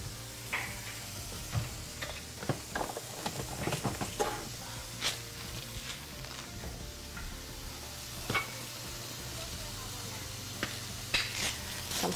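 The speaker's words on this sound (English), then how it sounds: "I'm just gonna stir my eggs just very lightly" Eggs are stirred lightly in a frying pan: a steady soft sizzle runs throughout, broken by scattered clicks and scrapes of a utensil against the pan, with no talking.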